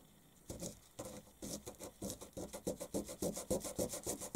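A small plastic part for a 1:48 Fiat CR-32 model kit is sanded by hand, a close, steady back-and-forth rasping in quick rhythmic strokes that starts after a short pause.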